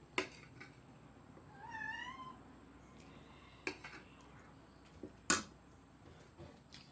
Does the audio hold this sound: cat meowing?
yes